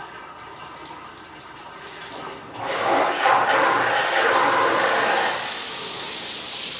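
Water gushes from a newly installed rain shower in a renovated bathroom, first a weaker hiss with sputtering from air in the pipes, then a loud, steady full spray.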